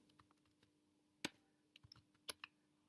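Typing a SQL command on a computer keyboard: a quiet, uneven run of separate key clicks and taps, with a few sharper strikes standing out and no talking.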